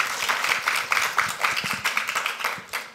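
A conference audience claps for a few seconds, a dense patter of many hands heard fairly close, with no talking over it.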